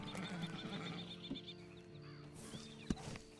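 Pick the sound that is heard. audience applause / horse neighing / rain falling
horse neighing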